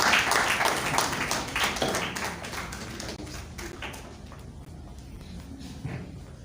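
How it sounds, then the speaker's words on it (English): Audience clapping for a guest invited up at a community gathering, scattered hand claps loudest at the start and slowly thinning out over several seconds. "Let's clap for him, please."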